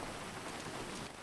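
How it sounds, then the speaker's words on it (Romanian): Steady rain falls in the GTA FiveM game world, a dense, even hiss of drops on surfaces that runs unbroken through the short stretch with no voices. "Uite la untru că te plouă."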